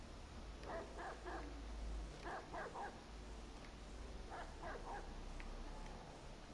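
Dog barking in the video game Watch Dogs 2, three short bursts of two or three quick barks each, fairly faint over a low steady background hum.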